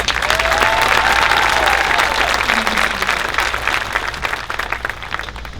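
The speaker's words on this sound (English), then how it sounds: "Let's give them a round of applause." Audience applause at a high school graduation ceremony, full and sustained clapping from a large crowd that stays loud for several seconds and then thins slightly toward the end, with some voices mixed in.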